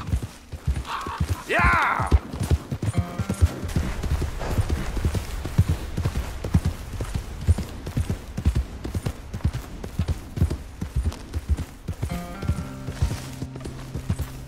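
Horse hooves clip-clop at a steady galloping rhythm in Red Dead Redemption 2, close and continuous for the whole stretch, with a brief shout and some speech over the hoofbeats.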